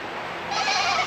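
Goats bleat close by in a short, nasal, wavering cry that swells halfway through.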